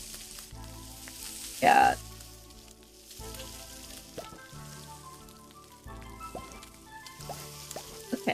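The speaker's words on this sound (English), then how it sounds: "Okay, let's saute." Sizzling from food being sautéed in the cooking video game Beastro, a soft frying hiss under bright game chimes and background music, with a brief voice in the middle.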